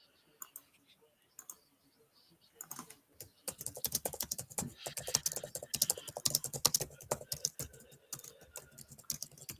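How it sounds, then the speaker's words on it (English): Rapid typing on a computer keyboard during a Manchester United vs Manchester City watchalong, sparse keystrokes at first building into dense, close, continuous clattering. "Look at you typing away"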